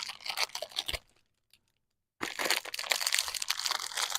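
Blue tack putty kneaded and pulled apart near the microphone while working on a Commodore 64: dense crinkly crunching and tearing, a sudden pause of about a second, then more sustained squelchy crunching.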